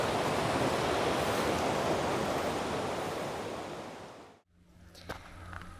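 A loud, continuous rush of a clear river near Blagaj, Bosnia and Herzegovina, fills the air, then fades abruptly and gives way to quieter ambient sound.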